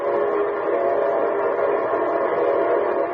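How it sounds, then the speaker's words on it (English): A locomotive's steam-style train whistle gives one long, loud, steady chord-like blast that holds for several seconds with no break and no voices. "that's the signal a locomotive engineer blows when his train is approaching railroad stations, junctions, and railroad crossings"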